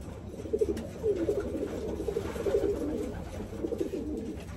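A racing pigeon hen coos in a low, repeated rolling pattern, close and steady, over a faint background murmur.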